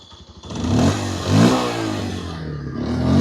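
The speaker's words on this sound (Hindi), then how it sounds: "आइडियल कंडीशन पर इंजन साउंड सुनो," A motorcycle engine runs close by and revs up twice, a loud, throaty rumble that rises and settles.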